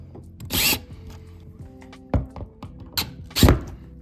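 A screw is driven into a staircase during a remodel, heard as short bursts of a power driver whirring, separated by pauses and ending with firm snugging thunks, close and fairly quiet.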